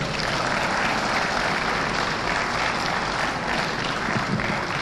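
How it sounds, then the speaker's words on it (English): Sustained applause from a large audience at a venture capital program event in Enugu, a dense, even clatter of many hands clapping throughout. "You're free to clap if you wanted to clap."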